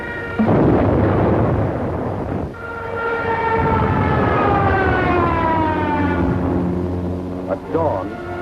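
WWII-era German aerial bombing of Yugoslavia at dawn, with a wailing air raid siren rising and falling steadily over a low rumble of engines and blasts, loud and sustained throughout.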